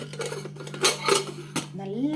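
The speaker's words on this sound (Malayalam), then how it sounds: "കുക്കർ മൂടിയിട്ട് അടുപ്പത്ത് വെക്കാം" Metal clatter of a pressure cooker lid being shut and set on a stovetop in a home kitchen, a few sharp clanks and knocks spaced across the moment, close and moderately loud, with a steady low hum beneath.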